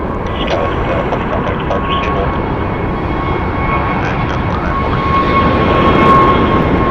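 An ABX Air heavy jet at Phoenix Sky Harbor gives a loud, sustained engine roar with a steady whine, swelling slightly toward the end, and voices can be heard faintly beneath it.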